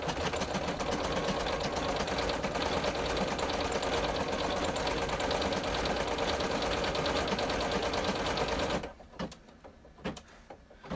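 A home embroidery machine stitches the nose of a design on a treat pouch, its steady rapid needle chatter running loud and close for about nine seconds before stopping, leaving a few faint clicks and handling noises.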